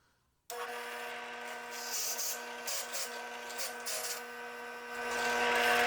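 A drill press bores into a wooden block being prepared for turning an ice cream scoop, giving a steady motor whine with a harsh, continuous cutting rasp that swells slightly toward the end.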